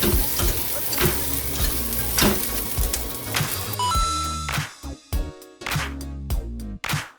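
Onions frying in a small aluminium pan of smoking-hot oil give a steady, loud sizzle; partway through the sizzle thins and drops out at moments while tonal, music-like sounds come in.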